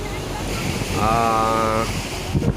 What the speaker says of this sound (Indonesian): Kita sekarang berada di pantai Pasir Putih